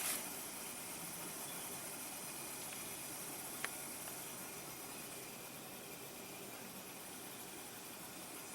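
A steady, soft hiss of refrigerant equalizing inside a Goodman heat pump after shutdown in heat mode, holding constant throughout with one brief tick near the middle.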